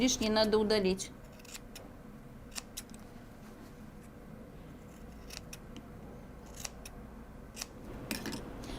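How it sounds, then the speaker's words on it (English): Scissors snip through fabric pieces at an angle while a welt pocket is sewn for a dress, a series of sharp close cuts after a brief voice at the start. "Next, we need to cut the extra pieces at the angles."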